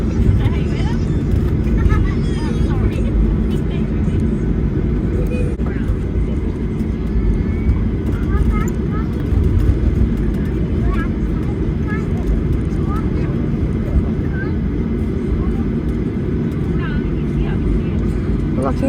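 Inside the cabin of a Qantas Boeing 737-800 taxiing to the gate at Melbourne after landing, a steady low engine rumble and airflow hum fills the space while voices murmur faintly underneath.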